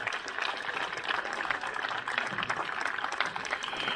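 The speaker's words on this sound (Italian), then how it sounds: "Fatevi un grandissimo applauso." Audience applause fills an outdoor amphitheatre at a Mediterranean music and culture event, a dense steady wash of many hands clapping throughout without pause.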